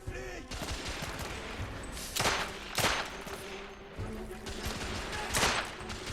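Gunfire in the video game The Order: 1886 rolls on in dense, continuous volleys, with several sharper, louder shots standing out from the steady rattle.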